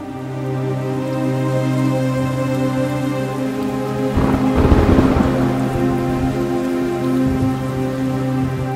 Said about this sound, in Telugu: చాలా రోజులైంది వర్షాన్ని చూసి.